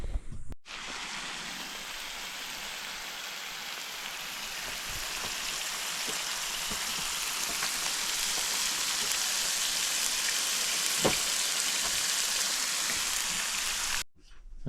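Eggs, potato and bacon sizzle in a pan at a campsite, making a steady, dense hiss with occasional faint pops that holds evenly for several seconds, with no talking.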